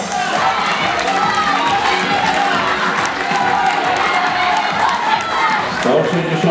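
A stadium crowd at the Polish youth athletics championships in Inowrocław applauds runners in a 4x400 m relay heat, a dense, loud, steady roar of clapping and cheering that lasts throughout with a voice talking over it.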